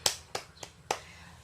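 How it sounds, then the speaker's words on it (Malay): A few sparse, separate hand claps in a classroom as pupils applaud a classmate named Ahmad, four sharp claps spaced unevenly and fairly faint. "beri tepukan kepada Ahmad"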